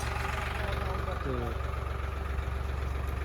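A tractor engine runs steadily at a village cow shelter in Panjgrain Kalan, a continuous low idling drone that fills the whole stretch, with faint voices in the background.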